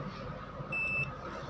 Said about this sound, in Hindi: तो सबसे पहले मैं इसको बीप पे करूँगा